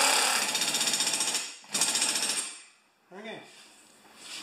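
A pneumatic air impact wrench hammers loudly on a 9/16 bolt of a Craftsman 6.5 HP Tecumseh engine in two rapid rattling bursts, followed by a brief pause and lower whirring.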